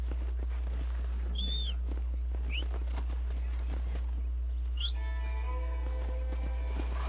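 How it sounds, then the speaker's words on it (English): Horses in the Red Dead Redemption video game, with hooves clip-clopping on the ground and a couple of sharp neighs and whinnies, set against a steady low hum and faint ambient sounds. "Let's see if we can't wrangle some horses."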